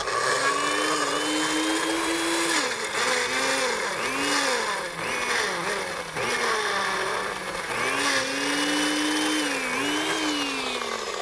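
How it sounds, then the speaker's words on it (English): A blender grinds a thick smoothie in a steady loud whir, its motor pitch dipping and rising repeatedly as the blend bogs and frees. "Make sure your blender is on nice and right."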